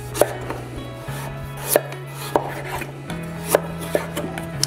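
A knife chops through a pumpkin on a cutting board in a kitchen, giving a series of sharp, irregular thunks and cracks spaced about half a second apart, close and fairly loud over a steady low hum.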